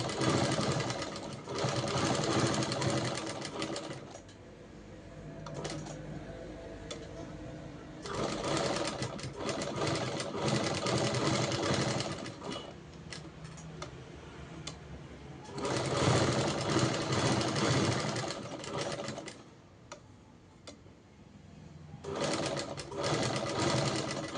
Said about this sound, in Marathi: मी पूर्ण मारणार आहे बघू शकता अशी पूर्ण टिप मारून घेते